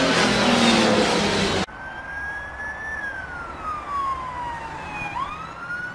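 Police car siren wails loudly and nearby, a sustained rising and falling tone over road noise, with a sharp cut from a dense burst to a clearer sweeping wail, no talking.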